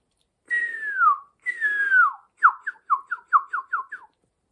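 Whistled human imitation of a cardinal's call: two long descending slurred whistles followed by a quick run of six short downslurred chirps, clear and close with no background noise.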